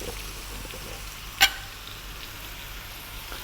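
Spiced pumpkin soup with salt and black pepper sizzles faintly in a pan over above-medium heat, a soft steady frying hiss broken once by a sharp utensil clink.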